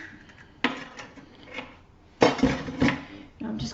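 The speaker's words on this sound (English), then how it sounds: "crack these 2 eggs into the bowl." Two eggs cracked against a bowl for spaghetti, beetroot leaf and ricotta fritters: a few sharp knocks on the rim and brief clinks, with quiet handling in between, close and clear.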